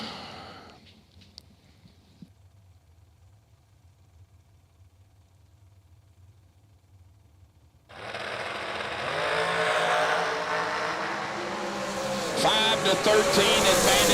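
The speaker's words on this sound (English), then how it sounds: "Joe Bob Hot Shoe and TC's machine, Mr. Crossnose Dragster" Dragster race cars launch at a drag strip during a twin fifties event, a near-quiet stretch breaking into a loud, sustained roar that grows even louder toward the end, with an announcer talking over it.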